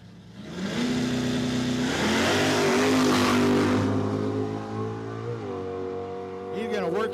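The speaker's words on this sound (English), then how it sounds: "So Aaron Walker will purge the nitrous, the big block nitrous-assisted 1970 Chevelle" A big-block, nitrous-assisted 1970 Chevelle drag car at a dragway roars loudly at a steady high pitch for several seconds, then drops off, with a voice briefly audible near the end.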